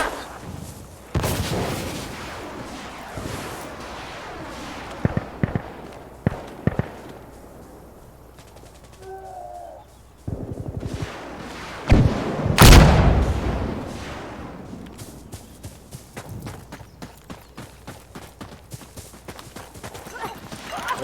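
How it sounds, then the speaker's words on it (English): A rocket strike lands in the shooter game Insurgency Sandstorm: several heavy booming blasts burst out at uneven intervals, the loudest near the middle, each trailing off into rumbling debris and crackle between quieter gaps. "Okay, we will fire the rockets."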